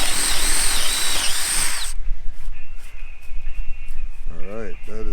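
A drill bores into a decking board with a loud, rough whine for about two seconds, then stops, followed by quieter handling sounds and a voice speaking near the end.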